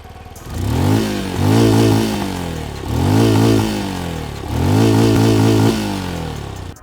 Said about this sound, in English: side hung single barrel exhaust, and let's check out how it sounds